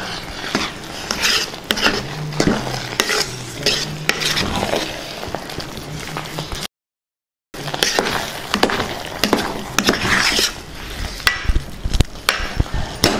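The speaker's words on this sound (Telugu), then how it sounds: "ఒకసారి బాగా కలుపుకుందాం." Mixed vegetable rice with coriander stirred in a pot, a steady run of scraping, clinking spoon strokes against metal at close range, with one short silent gap midway and no talking.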